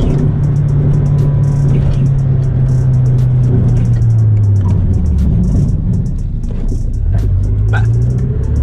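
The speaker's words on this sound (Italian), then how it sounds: "Voglio provare un'ultima cosa, che è quello della frenata." A Nissan Silvia S15 Spec-R under a braking test. Loud, steady road and engine rumble rises and falls as the car slows. Brief clicks sound throughout, and faint talk is mixed in.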